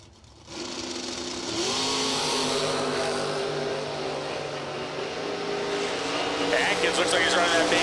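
A 1968 Camaro drag racing car launches and runs down the strip in high gear only, its engine note rising loud and sustained after a short quiet start, droning steadily for several seconds as an announcer talks over it.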